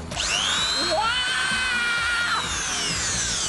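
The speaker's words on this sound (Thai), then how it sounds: "ก่อนอื่นนั้นเปิดสว่านดูครับ" A high-pitched electric drill whines steadily at close range, its pitch wavering slightly as it runs continuously.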